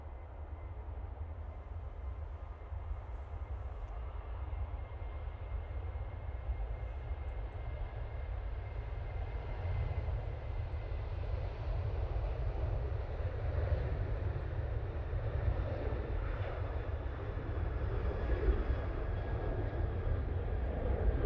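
A Ryanair jet takes off from Manchester Airport bound for Brussels, a deep continuous rumbling roar that builds slowly and stays fairly distant, with no voices.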